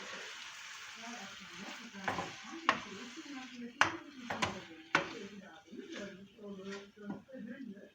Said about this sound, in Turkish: Orta ateşte kızartıyoruz arkadaşlar.